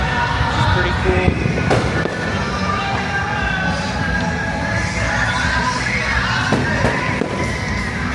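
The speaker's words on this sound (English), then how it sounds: "Fireworks, of course, are going off behind me, which is pretty cool." Fireworks going off at the Jollywood Nights 2024 evening event, a loud continuous barrage of booms and crackles mixed with crowd noise and occasional voices.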